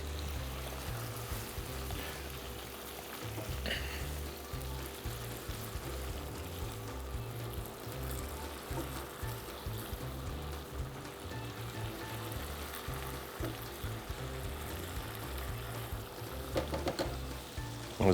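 Chopped parsley and beef fry in a pan with sauce, giving a steady, close sizzle that runs on evenly under a low background hum.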